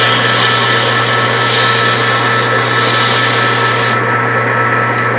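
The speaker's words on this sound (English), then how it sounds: "I'm going to blow the oil off again." A steady, loud rush of compressed air blows oil off a surface, holding constant for several seconds before the hiss cuts back abruptly near the end.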